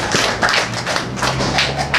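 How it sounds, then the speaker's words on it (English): A small audience at a library centenary gathering in Dominica gives scattered, close applause, uneven claps and taps over a low background hum. "let's give all of us a round of applause for keeping the library for 100 years"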